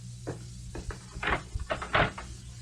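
A door being opened for a visitor in an old radio drama: a run of close wooden knocks, rattles and clunks from the latch and frame, irregular and moderately loud, with no voices.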